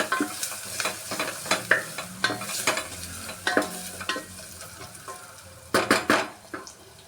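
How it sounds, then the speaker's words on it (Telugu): A spoon scrapes and clatters as turmeric is stirred into sizzling oil in a pan for a mixed vegetable curry, with repeated close, rhythmic stirring strokes over a constant fry hiss. "ఇప్పుడు బాగా కలిపేసుకొని"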